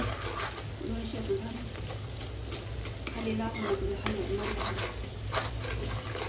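Homemade pav bhaji is stirred in a pan, with a continuous close sizzle and clinks of a spoon against the metal, while people talk over the cooking.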